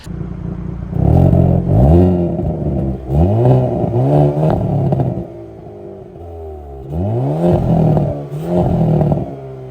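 The tuned exhaust of a 2023 Hyundai Kona N sports SUV revs repeatedly in loud, close bursts, each rising and falling in pitch with short pauses between them, and no talk is heard.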